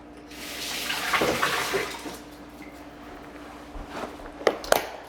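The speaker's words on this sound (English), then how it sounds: "I'm gonna wash my hand Sorry. on this. Now I'll just do a quick rinse." Hands rinsed under a running kitchen tap: a steady wash of water flow with louder splashing early on, then a softer stream ending in a couple of sharp knocks and splashes, no talk.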